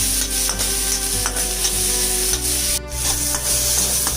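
Ingredients for an egg-curry paste, including chili powder and cumin, fry lightly in a pan: a loud, close sizzle with rhythmic stirring scrapes and a low steady hum underneath, and no talking.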